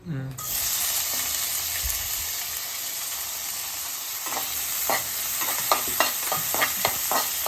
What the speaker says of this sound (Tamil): வெங்காயம் போடுறேன்.